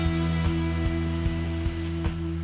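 Concorde jet engines in Microsoft Flight Simulator drone with a steady low tonal hum, a regular thump recurring about every 0.4 seconds beneath a faint high whine, alone with no talk.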